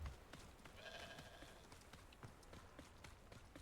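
A sheep bleats once in Hogwarts Legacy, a short wavering cry, over busy game background noise with scattered clicks and steps.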